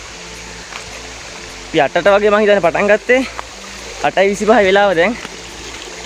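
A small stream flows with a steady, soft rushing wash along a hiking trail at Kiribathgala, running continuously under a man's close, loud talking.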